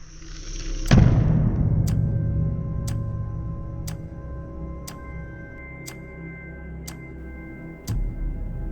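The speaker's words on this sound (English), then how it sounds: "same drop height, same impact. But this time, instead of the fully charged battery, the empty battery." An empty battery dropped from height in an impact test lands with one sharp, loud crack, followed by a fading rumble and a series of evenly spaced faint ticks, then a second thud near the end.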